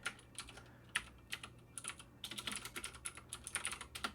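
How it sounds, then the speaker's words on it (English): Rapid typing on a WASD Code mechanical keyboard fitted with custom keycaps, a close, steady run of sharp key clicks that grows denser toward the end, heard alone with no talking. "Tux, you like the sound of my keyboard?"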